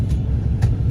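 Kenworth W900 semi truck with an exhaust issue, its engine and exhaust giving a loud, close, steady low rumble that runs throughout without a break.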